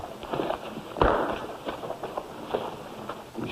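Horse hooves clopping on the ground in a 1951 Western film, irregular muffled thuds close by with one heavier impact, under a steady background noise and no speech.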